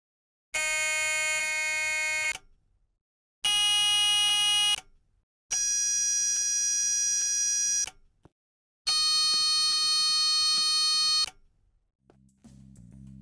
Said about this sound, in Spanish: el ruido de los buzzers de otros jugadores en servidores públicos